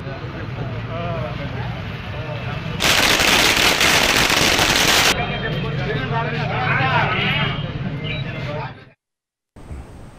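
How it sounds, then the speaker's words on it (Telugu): Firecrackers go off at a celebration, a dense rapid crackle of bursts that erupts for a couple of seconds over ongoing voices and crowd noise. "పెద్ద ఎత్తున టపాసులు పేలుస్తూ స్వీట్లు పంపిణీ చేశారు"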